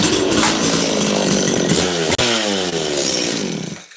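A Makita DCS540 chainsaw engine runs loud and steady close by, its pitch rising and falling in a few throttle swells with a brief cut near the middle before picking back up.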